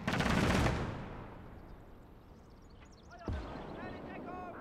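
Flak cannon fire in the WWII strategy game Gates of Hell, a loud burst of rapid shots at the start that fades into a rumbling battlefield, then another sharp report followed by scattered battle noise.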